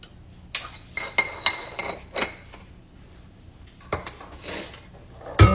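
Dry baking ingredients, including baking soda and salt, being mixed in a bowl, with a series of close, uneven clinks and scrapes of a utensil against the bowl separated by short pauses.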